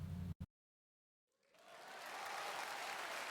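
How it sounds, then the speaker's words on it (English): Applause from the Steins;Gate 0 visual novel swells from silence into a broad, sustained wave of clapping from a large audience, growing steadily louder and holding. "It was a huge wave of applause."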